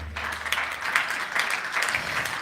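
A church congregation breaks into applause at a Sunday service, a dense, steady wash of many hands clapping, fairly loud and sustained, without talking.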